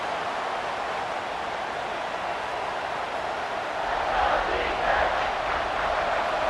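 A stadium crowd in the EA College Football 26 video game produces a steady broad roar that swells louder in the last couple of seconds as fans rally behind the defense.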